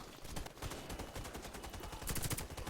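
Rapid automatic gunfire in the video game Warface, a dense string of evenly spaced shots at moderate volume with a sharper, brighter burst near the end, and no voices.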